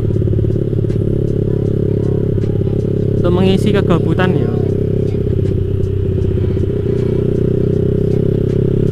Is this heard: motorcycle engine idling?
yes